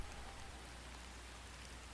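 Steady rain patters through a dark forest in a dinosaur survival game, a dense, even hiss of falling drops that holds constant and fairly quiet throughout, with no voices over it.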